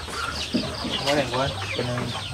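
Native breeder chickens on a farm clucking near by, a run of short, throaty calls that rise and fall over a soft barnyard background.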